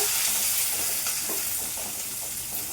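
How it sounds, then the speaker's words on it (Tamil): Onions, curry leaves and dried chillies fry in a pan of popping mustard seeds for avarakkai poriyal, giving a steady bright sizzle with soft stirring scrapes, close and continuous, fading slightly toward the end. "இந்த டைமில் நம்ம இந்த வெங்காயமும் கருவேப்பிலை இந்த காஞ்ச மிளகா சேர்த்துக்கலாங்க"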